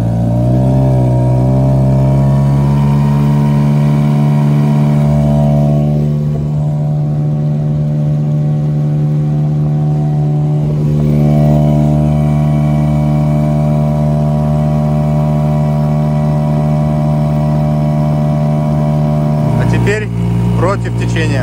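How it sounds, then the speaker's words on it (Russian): A 5 hp Apache outboard motor drives a Taimen NX2 800 inflatable-floor boat carrying two people downstream in winter, a loud steady close-up engine drone with strong harmonic whine, shifting pitch slightly near the end, with voices talking over it. "Моторчик завелся."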